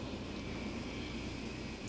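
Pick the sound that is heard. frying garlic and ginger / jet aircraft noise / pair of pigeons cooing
jet aircraft noise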